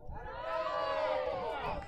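A softball crowd reacts to an underhand pitch with a swelling murmur of shouts and chatter, a moderately distant collective groan rising and fading over a couple of seconds.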